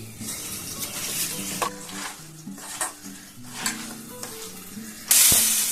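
Cauliflower and peas frying in a pan for veg Manchurian, a steady close sizzle broken by spatula scrapes and clinks against the pan, ending in a sudden louder burst of hissing.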